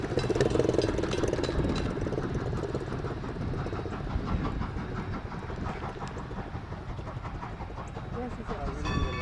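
A passenger train rumbles and clatters past steadily at moderate loudness in Lancaster County, Pennsylvania, with rhythmic wheel noise throughout and people talking over it.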